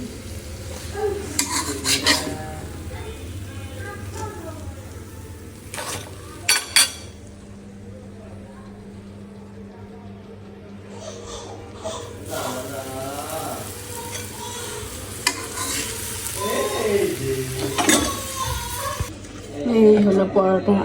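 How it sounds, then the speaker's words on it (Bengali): Food frying in a pan at home, with sizzling, clinks of utensils against the pan and stirring sounds, heard under intermittent conversation between people. "ভাজতেছি"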